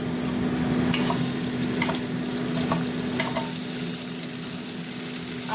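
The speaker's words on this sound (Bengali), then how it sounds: "পেঁয়াজ ভাজা ভাজা হয়ে গেছে। আমি এবার চিংড়ি মাছগুলো দিয়ে দিচ্ছি।" Prawns hiss and sizzle steadily in a hot pan of frying onions for a Bengali prawn curry with pointed gourd and potato, with occasional stirring scrapes cutting through the close, continuous crackle.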